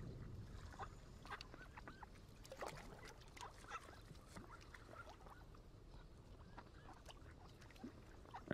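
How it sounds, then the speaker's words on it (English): Ducks and geese at a waterside spot quack and honk faintly in scattered calls, distant and intermittent over a quiet outdoor background. "there's a lot of ducks in this video"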